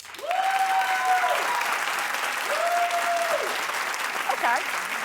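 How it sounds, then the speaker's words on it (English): Studio audience claps as a show-of-hands poll on whether marijuana is addictive, a steady wash of applause lasting the whole stretch while a voice speaks over it. "clap only if you feel marijuana is addictive"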